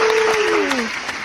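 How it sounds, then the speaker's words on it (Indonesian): An audience claps for a guest speaker at a talk on true happiness: a brief, loud wash of applause with a voice sliding in over it. "tepuk tangan dulu buat Mr."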